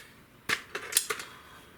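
A Beeman 2015S double barrel air rifle fires with a sharp, close crack, followed by a few quick metallic clicks and rattles of the mechanism, with no talking.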